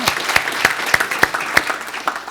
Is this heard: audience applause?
yes